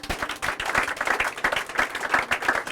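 A church congregation clapping and cheering for Jesus, with many hands beating in quick, dense applause that holds steady and lively, with a few voices mixed in.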